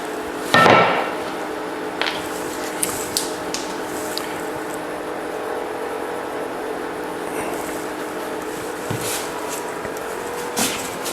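A single sharp knock of a wooden dowel being hammered in rings out near the start, followed by a few lighter taps and clicks over a steady background hum.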